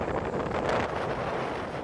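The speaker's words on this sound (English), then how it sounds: "The first typhoon of the year did not make landfall, but it did bring downpours and strong winds." Strong typhoon winds blow in Taiwan, a loud, steady, broadband roar buffeting the microphone with no voices heard.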